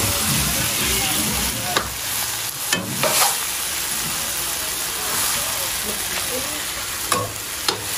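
Plantain frying in a pan beside a pot of duck curry, a steady loud sizzle with occasional stirring clatters and scrapes, close up and continuous.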